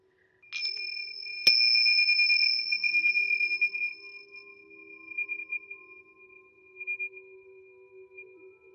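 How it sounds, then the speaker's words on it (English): Tingsha bells are rung to open a yin yoga session, and one sharp metallic strike leaves a clear, sustained shimmering tone that slowly fades and wavers in a quiet room. "With my tinksa bells."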